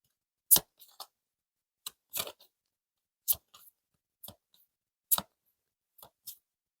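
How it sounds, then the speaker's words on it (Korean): Tarot cards are drawn from the deck, making several crisp, close snapping flicks spaced about a second apart against near silence. "카드를 한 번 더 뽑아보겠습니다."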